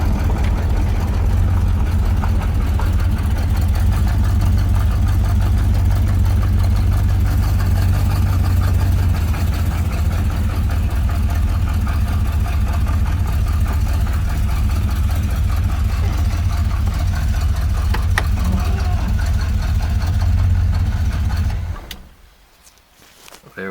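A 1972 Corvette engine idles steadily and loud for about twenty seconds with a deep, even rumble, then shuts off abruptly near the end, leaving near silence.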